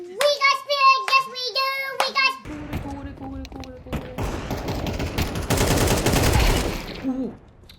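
Gunfire in the video game Counter-Strike 2, with bursts of rapid automatic shots and a sustained volley, loud and close, following musical game tones, while someone talks over it.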